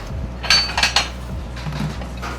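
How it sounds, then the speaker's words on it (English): A knife cuts a bone-in filet steak away from the bone, giving a few sharp metallic clinks and scrapes against the plate over a low steady background. "we're going to come down alongside the bone here and really just slice it right down in there"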